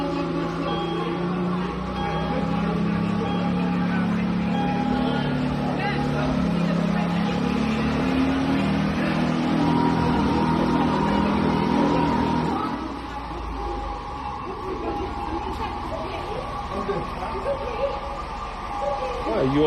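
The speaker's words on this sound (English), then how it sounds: "That's the engine revving that you're hearing right now." A car engine revs hard with a loud, sustained roar and squealing tires, easing to a lower rumble partway through while people talk over it.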